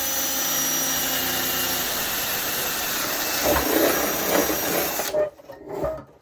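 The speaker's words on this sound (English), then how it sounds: "I think I've got probably the bluntest drill in the world." A power drill with a very blunt bit whines steadily at high pitch, straining and grinding for several seconds before cutting off, followed by a couple of brief scrapes.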